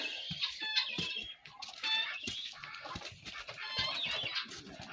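Busy poultry noise in a barn: guinea fowl chattering and ducks quacking in overlapping bursts, close by and continuous, with some wing flapping.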